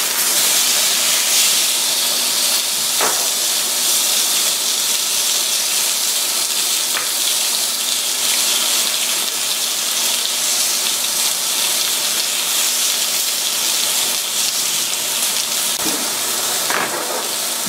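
Food sizzles steadily and loudly on a hot grilling pan just after being flipped, a dense unbroken hiss with a few faint clicks and ticks scattered through it.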